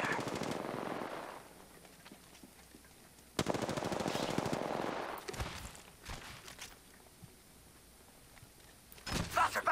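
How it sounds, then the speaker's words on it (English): Gunfire in the video game Apex Legends: rapid automatic bursts come in two loud runs, then sparser shots and footsteps, with a final burst at the end. "Taking fire."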